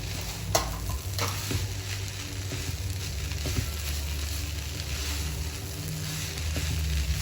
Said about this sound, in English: you have to make sure that you mix it very well so that the coconut is mixed with all the vegetables